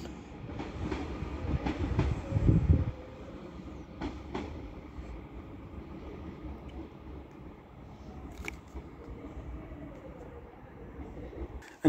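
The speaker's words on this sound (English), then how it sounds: "And now coming down is a East Midlands Railway pairing of Class 158s from Liverpool Lime Street to Norwich" A pair of East Midlands Railway Class 158 diesel units rolls past at Stockport on the West Coast Main Line, a low rumble with a louder clatter of wheels early on, then a steadier fading roll with occasional squeals.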